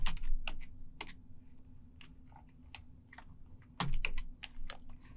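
A command being typed on a computer keyboard into a terminal window: a run of quick, close, sharp key clicks at an irregular pace, with no voices.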